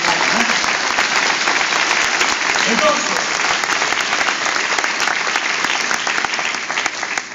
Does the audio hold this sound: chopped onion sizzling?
no